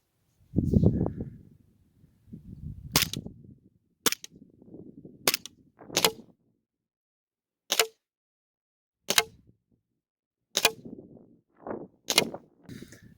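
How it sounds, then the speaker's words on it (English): KWC PT92 airsoft pistol fired semi-automatic at a target: sharp single pops spaced a second or more apart, about eight shots, with soft handling thumps and faint movement between them, no talking. "first thing we're going to try is the semi-automatic. We're going to do about 5 rounds to the target"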